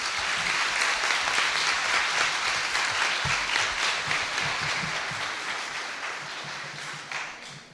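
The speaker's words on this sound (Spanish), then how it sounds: "para quienes pido un fuerte aplauso" Steady applause from an audience honoring university professors of an international studies institute, dense clapping held at even strength for most of the stretch before thinning out toward the end.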